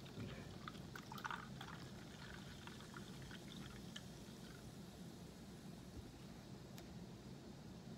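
Blue raspberry soda is poured from a bottle into a glass, giving a soft continuous fizzing pour with faint trickling, quiet and close, steady for several seconds.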